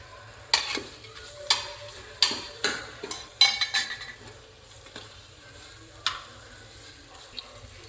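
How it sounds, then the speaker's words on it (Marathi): Cashews go into spiced oil in a pan for veg pulao. A soft sizzle sits beneath sharp, irregular clinks of a spoon stirring against the metal pan. "मसाल्यांना आता चांगल्या प्रकारे तेल सुटलं आहे तर आपण आता त्याच्यात थोडेसे काजू टाकून घेऊया"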